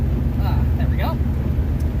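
1978 Ford Thunderbird driving, heard from the cabin as a steady low road and engine rumble with wind noise, while a voice speaks briefly over it.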